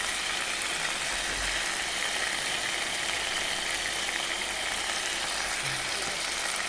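Ginger and garlic paste sautéing in a pan as chili powder goes in, a steady close sizzle of frying spices continuing without a break, with faint low clatter underneath.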